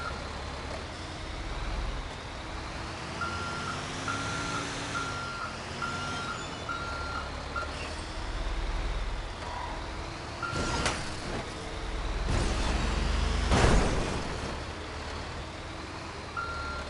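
A truck reverses in GTA 5, its steady backup beeper pulsing in a regular rhythm over a low engine rumble, later joined by the hiss of air brakes and heavier engine noise.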